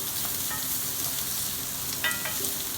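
Red onions sauté over high heat in a cast iron pan with an even, continuous sizzle, close and moderate, broken by a couple of light utensil clinks near the end. No voices are heard.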